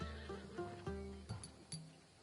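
Macedonian warhorse bred for battle in Assassin's Creed Odyssey, giving a loud, close neigh in several quavering whinny bursts, with a few hoof clops, and no talk.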